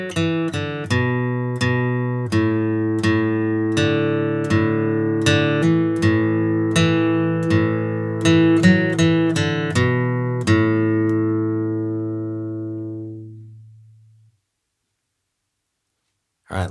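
Flatpicked acoustic guitar plays a line of the bluegrass fiddle tune Arkansas Traveler, a steady run of crisp picked notes at an easy tempo, ending on a long ringing note that fades to silence.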